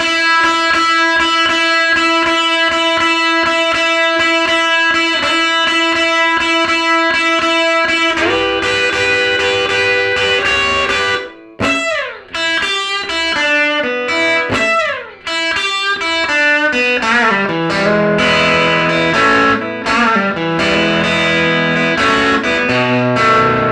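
Distorted electric guitar lead, opening on held, singing notes before breaking into fast bends, slides and flurried licks, loud and upfront with no talking.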